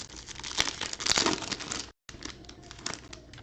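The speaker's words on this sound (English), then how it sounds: "Right here, we're going to rip this chrome." Foil wrapper of a small 2021 Bowman Chrome baseball card hobby pack being torn open, close crinkling and ripping with a brief gap midway, no voices.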